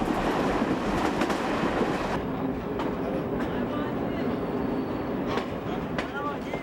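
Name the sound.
train travelling to Kashan station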